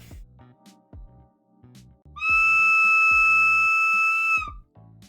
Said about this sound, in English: that's the end of the whistle sound effect